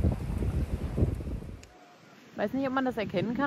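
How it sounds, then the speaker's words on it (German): Strong wind gusting on a beach on Koh Phi Phi, a heavy low rumble of wind buffeting the microphone for about a second and a half, then dropping away before a person talks close by. "aber es ist schon ordentlich windig."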